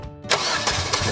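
A taxi car's engine starts after a brief quiet moment, catching quickly and settling into a steady running hum.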